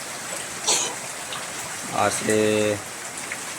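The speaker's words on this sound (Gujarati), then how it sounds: "ફૂલઝાડ અને આવો સરસ વરસાદ જામ્યો છે।" Heavy rain pouring down in a village garden full of flowering shrubs and lime plants, a steady broadband hiss throughout, with someone speaking briefly over it and a short vocal sound near the middle.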